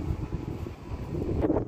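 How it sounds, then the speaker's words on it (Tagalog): Wind blows steadily at a construction site, with a low rumbling buffet against the microphone that swells slightly toward the end. "bali mahangin dito ngayon sa site"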